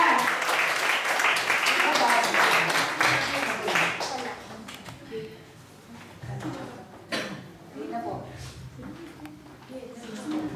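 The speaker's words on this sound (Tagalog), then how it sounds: "Palakpak uli sa Lord." A church congregation at a revival service applauding in praise, a burst of clapping early that fades under someone speaking, with scattered claps later.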